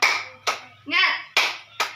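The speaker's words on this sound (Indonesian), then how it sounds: "Oh ya, tepuk semangat." Children in a classroom doing a rhythmic spirit clap, with sharp bursts of clapping in a steady pattern broken by a short shouted chant between claps, close and loud.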